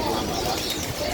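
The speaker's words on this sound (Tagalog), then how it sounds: "Napakaraming mga kalapati din dito." Pigeons coo softly in a bird shop crowded with many birds, against a dense, busy background.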